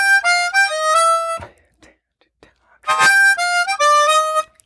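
Blues lick on a chromatic harmonica over a chord change, played as two bright sustained phrases with a short pause between, close and alone without talk.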